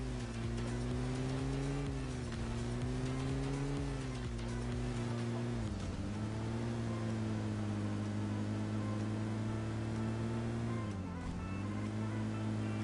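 A car drives in PUBG Mobile, its engine holding a steady drone with slight pitch dips as it shifts or slows, loud and continuous throughout.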